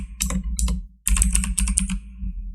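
Typing on a computer keyboard to enter a name: two quick bursts of crisp, close key clicks separated by a brief pause, loud and alone with no talking.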